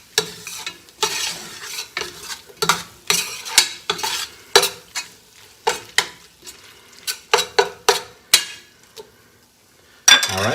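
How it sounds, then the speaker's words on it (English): Red curry paste stirred into vegetables sizzling in a pan, with a steady run of distinct utensil scrapes and clinks against the pan over a soft continuous fry, close and clear with no talking. "we're going to throw in 2 tablespoons of a red curry paste. And we're just going to incorporate that in here for about a minute."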